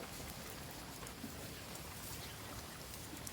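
Steady rain falling, a dense continuous hiss of drops hitting surfaces, even and unbroken throughout with no voices.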